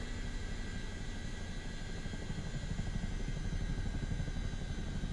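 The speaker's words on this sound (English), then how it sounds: "And we'll just helicopter around Area 51." A Chinook helicopter flies over Area 51 in Microsoft Flight Simulator 2024, giving a steady, loud rotor and engine drone that swells slightly partway through, with no talking.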